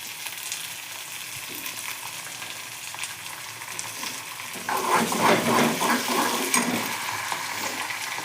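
Onion, garlic and ginger frying for noodles, a steady sizzle that swells louder and more crackly as tomatoes are added and stirred in, then settles back to a constant fry.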